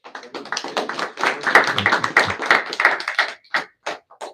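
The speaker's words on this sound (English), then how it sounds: "A round of applause, Maharaj" A small gathering at a devotional evening program claps in a brief round, a close, dense burst of individual hand claps that thins to a few scattered final claps.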